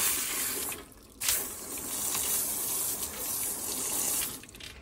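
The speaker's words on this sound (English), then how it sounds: "Got my bidet sprayer." A bidet sprayer hisses water steadily into an off-grid outhouse toilet, pausing briefly near the start before resuming as a close, continuous spray.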